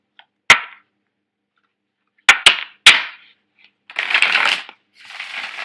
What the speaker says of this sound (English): I'm going to lay out your cards.